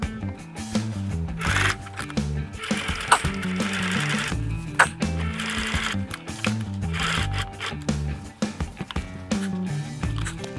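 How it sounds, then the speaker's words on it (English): A sewing machine stitches the fabric of a golf cart box cushion seat during upholstery, running in steady bursts of rapid mechanical chatter that start and stop, loud and close, with no talk over it. "I'm gonna sew it to about right there"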